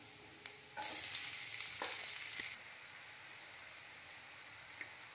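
Onions hit hot oil in a pan already holding sautéed ginger and garlic, bursting into a loud, steady sizzle that holds for under two seconds before settling into a quieter background fry.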